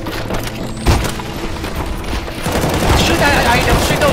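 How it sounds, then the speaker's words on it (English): Continuous bursts of gunfire in CS:GO Zombie Escape on a Halo CE map, loud and dense with a heavy boom near the start, with game voices mixed in. "Shoot those items at that left corner, guys."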